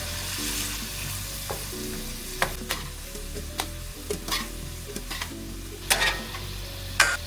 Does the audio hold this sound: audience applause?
no